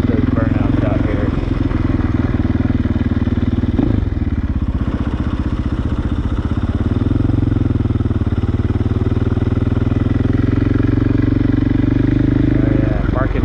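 A KTM 500 supermoto motorcycle rides around a parking lot, its single-cylinder engine running loud and close with a steady throb and brief throttle blips, while a voice talks over it.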